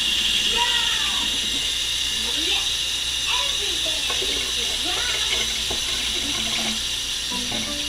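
Water added to a hot pan of beef and broccoli: a continuous bright hiss and sizzle, loud and steady throughout, with faint scattered clinks beneath.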